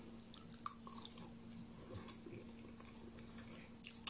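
Someone chewing suman, a Filipino rice cake, close and quiet: soft wet squishing bites and mastication with faint clicks, against a low steady hum.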